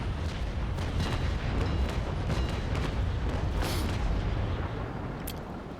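Ship cannon broadside firing in the naval combat game Naval Action: a dense, rumbling roll of overlapping booms lasting several seconds, heavy and continuous, with a couple of sharper cracks near the end and no speech.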